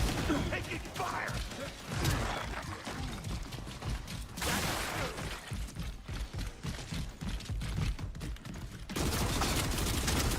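Gunfire in a Gears of War match: dense bursts of shots and mechanical clatter fill the whole stretch at steady loudness, with voices talking over the battle noise.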